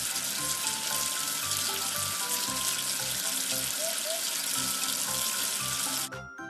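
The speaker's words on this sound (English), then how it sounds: "Wash away the soap with water." Water runs steadily from a tap to rinse soap away in a children's number-washing game, a loud, even rush that continues for about six seconds before stopping abruptly near the end.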